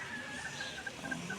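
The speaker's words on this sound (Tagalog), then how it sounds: "Ang mga manok ko na nakatago." Chickens hidden in grass by a moringa garden cluck faintly in a quiet outdoor setting, with a few soft, scattered calls over low background noise.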